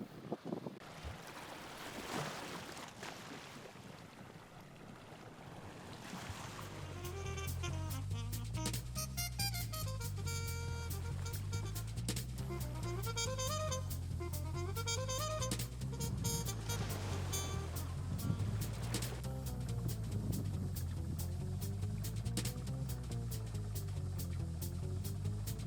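A sailboat rounds into Falmouth under steady wind, with waves washing against the hull and a rhythmic wavering tonal drone running throughout, sustained and moderately loud after a brief quieter opening.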